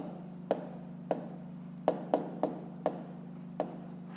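A pen writes by hand in a notebook, its short scratchy strokes landing in an uneven sequence of about eight faint, close ticks over a steady low hum, with no voices.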